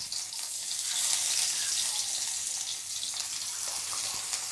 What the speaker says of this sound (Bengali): এক এক করে সবগুলো ভেজে নেব